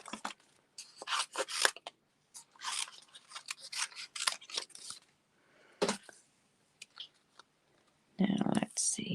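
Scissors snip through paper while a folding hot-air-balloon pop-out card is made, giving close, crisp cuts in quick uneven bursts separated by pauses, with a brief louder rustle at the end.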